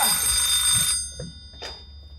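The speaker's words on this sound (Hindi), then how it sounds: "किसका फोन आ गया?" A telephone bell rings loudly for about a second, then stops, leaving a few faint thumps and a brief high burst before quiet.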